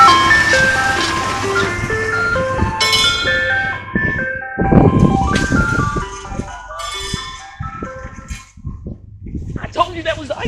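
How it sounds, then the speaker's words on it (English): An ice cream truck's tinkling melody plays as the vehicle passes along a street, with engine noise beneath it and people talking loudly over the tune. "I told you that was the ice cream truck."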